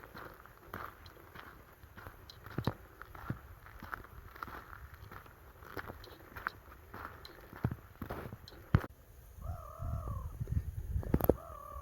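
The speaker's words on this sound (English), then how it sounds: "Black-headed gull." Black-headed gulls calling outdoors near marshland and heathland, a few harsh, fairly faint cries near the end against soft footsteps, scattered taps and quiet ambient noise.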